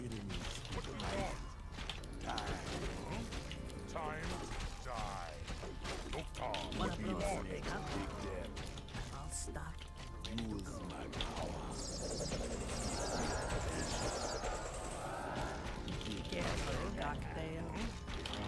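Mechanical whirring and clanking of a goblin shredder unit moving in a Warcraft strategy game, steady and dense alongside other game effects and under continuous talk.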